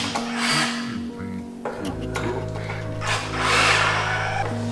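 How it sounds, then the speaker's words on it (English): A 7mm socket tightens bolts on an intake box being installed in a BMW F30, with whirring, buzzing ratchet bursts close by and some talk between them. "we're just gonna go ahead and tighten these bolts"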